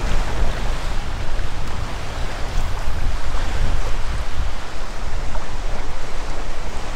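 Churning backwash swirls like a washing machine around a shoreline fishing spot, a continuous loud, close turbulent wash of water with no voices.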